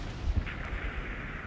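Destroyer guns fire in World of Warships Blitz, a couple of low thudding booms early on, followed by a softer hissing whoosh trailing off, with no talk.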